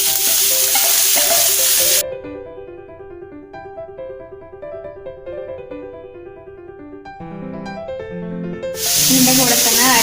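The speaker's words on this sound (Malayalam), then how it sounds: "അതിലേക്ക് നമുക്ക് അരിഞ്ഞ് വെച്ച കോളിഫ്ലവർ ഇട്ട് കൊടുക്കാം." Chopped cauliflower hits hot oil with dried chili, curry leaves and browned urad dal for a cauliflower thoran, giving a loud sizzle at the start and again at the end, with background music between.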